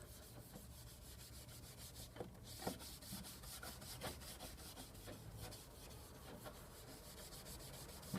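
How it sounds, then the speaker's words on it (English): A felt pad buffs polishing paste into damaged white extruded UPVC profile, a soft steady rubbing that continues throughout, faint and close with a few slightly sharper scuffs. "I'm just going to wrap that felt pad around there, and I'm going to buff in the polishing paste"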